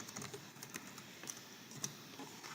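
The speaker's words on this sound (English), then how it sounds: "you can type in the institution name" A computer keyboard clicks steadily as an institution name is entered into a form, a light, even run of close keystrokes with no one speaking.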